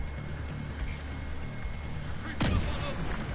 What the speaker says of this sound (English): I got grenaded right to the face